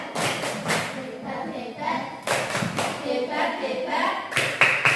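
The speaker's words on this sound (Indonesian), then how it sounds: "boleh tepuk tangan kelompok satu. Tepuk hebat, tepuk hebat" A primary school class does a rhythmic 'tepuk hebat' clapping cheer for a group, with several bursts of hand claps and thumps mixed with children's voices and a teacher talking over them.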